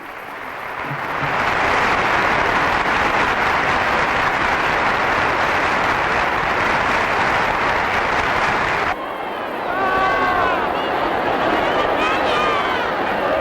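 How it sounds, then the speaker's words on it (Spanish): Sustained applause from members of both parliamentary chambers at the close of a constitutional session, a dense roar of clapping and crowd noise that pauses briefly near the end before resuming, with a voice speaking over it. "el aplauso de los representantes de las dos cámaras"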